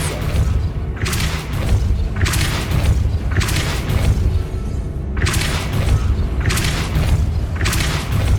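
The Depulso spell is cast in the video game Hogwarts Legacy, heard as loud, deep booming bursts that repeat about every second over a low rumbling background.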